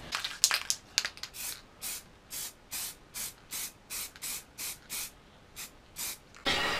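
Black paint hisses from a spray can in about a dozen short, even bursts with brief gaps, close by, ending in one longer spray.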